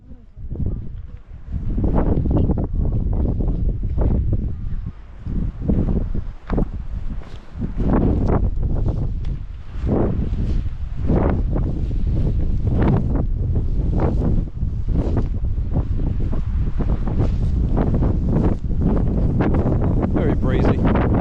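Strong gusty wind buffets an outdoor microphone continuously, with deep rumbling bursts and some water-like surf noise underneath, while a person talks intermittently.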